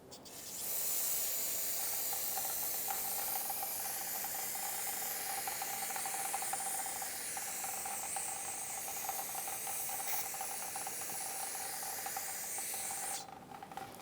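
Aerosol cleaner sprayed onto the rear wheel hub of a Toyota RAV4 during parking brake shoe work, a long continuous hiss starting at once and holding steady for about twelve seconds before cutting off.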